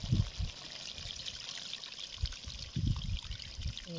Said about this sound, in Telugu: ఇక ఇప్పుడు పులుసు పోసుకోవాలి